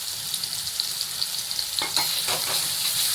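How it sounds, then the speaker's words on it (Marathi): Chopped onion going into hot oil with cumin for broccoli sabzi, frying with a steady close sizzle that swells sharply partway through as the onion hits the pan, with light stirring. "आता आपण याच्यामध्ये कांदा टाकूया"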